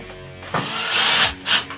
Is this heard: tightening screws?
yes